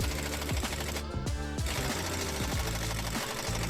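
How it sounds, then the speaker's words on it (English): An impact wrench fitted with an extension hammers at a stuck suspension bolt on a damaged Chevy Volt, a loud, dense, continuous rattling chatter that dips briefly, all close up with no voices. "you're really not supposed to use extensions with impact wrenches"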